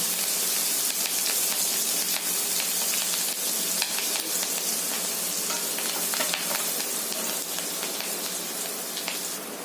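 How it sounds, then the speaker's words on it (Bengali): Garlic and green chillies frying in hot oil, a steady dense crackling sizzle with scattered sharper pops, close and loud throughout, no voices. "এবার ওই তেলে আমি রসুন কিছুটা আর কাঁচা লঙ্কা দিয়ে 10 থেকে 15 সেকেন্ড"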